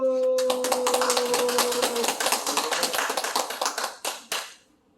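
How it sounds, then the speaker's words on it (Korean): A gathered audience at a religious meeting claps after a sustained tone, the crisp individual claps growing sparser and more separated until a few last isolated claps fade into silence. "자, 박수 칩니다. 박수!"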